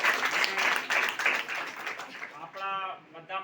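Audience applause welcoming a guest at a public gathering, a dense patter of many hands clapping steadily and fairly close, with a voice starting to speak near the end.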